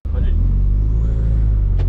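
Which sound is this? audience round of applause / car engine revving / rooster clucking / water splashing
car engine revving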